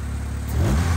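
Honda D16A6 turbo car engine revving up close, a short rising burst of engine noise with no talk.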